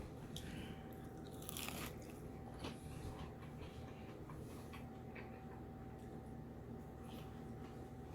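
Biting into crunchy coated fried pork loin gives a few close crackling crunches followed by chewing, over a steady low background hum.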